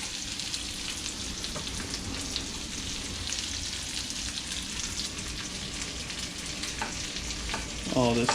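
Chopped onions frying in a cast iron skillet in rendered bacon fat, a steady dense sizzle and crackle running throughout, close and fairly loud, with a brief stir or scrape near the end.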